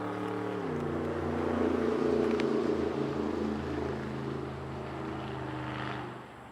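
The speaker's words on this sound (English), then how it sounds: "I don't mind a loud truck" A loud truck drives past outdoors beside a garden, giving a steady broad engine roar that swells and then fades away.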